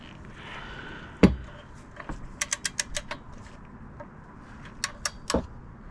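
Torque wrench tightening the oil drain plug with crush washer on a 2019 Subaru Forester during an oil change: a sharp click near the start, then a rapid series of faint ratcheting clicks followed by a few more, close by with no talking.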